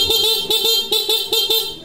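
Stock horn on a Suzuki Smash motorcycle, sounding as four or five short, rapid, loud honks in quick rhythm, close and alone.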